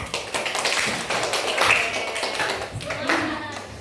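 Schoolchildren clapping their hands in a classroom religious lesson, a busy scatter of claps and taps with children's voices mixed in throughout.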